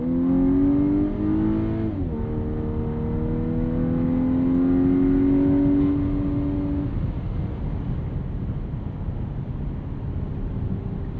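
A 2024 Volkswagen Atlas Cross Sport SEL Premium R-Line accelerating hard on kickdown, the engine note rising steadily through a gear change and then settling into loud road and wind roar, heard from inside the cabin.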